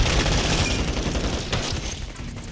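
Grenade blast in a first-person shooter game, a loud, dense rumbling explosion with crackling gunfire that fades over a couple of seconds, with no talk.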